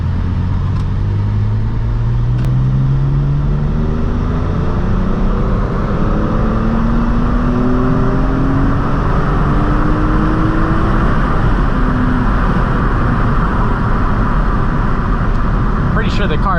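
A BMW E46 M3 with worn-out rubber bushings and a transmission fault pulls hard under acceleration, its engine note rising in long sweeping steps through the gears, loud and steady throughout.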